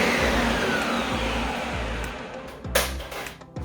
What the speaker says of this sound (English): this only takes like a minute to blend, right? Because the Ninja does a pretty good job at turning this into a puree